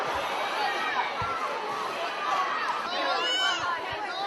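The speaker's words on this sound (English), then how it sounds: "And the crowd is absolutely going insane." Fans at the red carpet premiere of The Golden Compass yell and cheer in a dense, roaring crowd, with whoops and shouted names rising over constant babble throughout.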